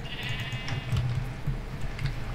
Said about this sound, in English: Sheep, give us your mutton.